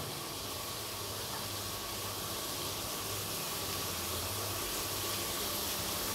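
Carrot and capsicum sautéing in a pan for road-side style chicken egg noodles, a steady close sizzling hiss that holds evenly throughout with no break.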